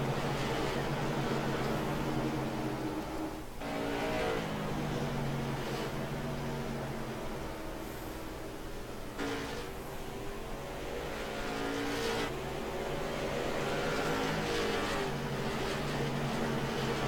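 Oval-track stock cars racing at Oxford, a continuous loud roar of several engines revving and droning past, swelling and fading as the pack circles, with no talking.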